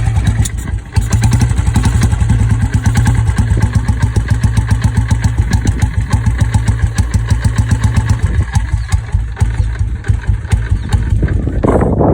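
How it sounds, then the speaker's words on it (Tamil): A Royal Enfield Bullet 350 motorcycle kick-starts with the decompressor released and settles into a loud, close, rapid thumping idle, its steady single-cylinder beat continuing before cutting off near the end. "ஒரு கிக் விட்டிங்கன்னா பைக் ஸ்டார்ட் ஆகிடும்"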